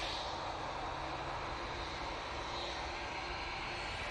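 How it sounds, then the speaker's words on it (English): A Juneyao Boeing 787-9 Dreamliner in colourful petal livery roars steadily at Manchester Airport, its jet engines a continuous broad rumble with airy hiss, loud and sustained with no voices. "787-9 Dreamline in the colourful petal livery for Junyao."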